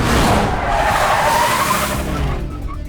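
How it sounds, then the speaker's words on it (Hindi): A car brakes hard and its tires skid, a loud, close, continuous screech of rubber lasting a few seconds and fading slightly at the end. "अभी जोर से ब्रेक मारना वरना उनका ध्यान तेरी तरफ कैसे जाएगा।"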